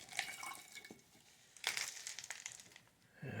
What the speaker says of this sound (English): I'll pour some sodium hydroxide in there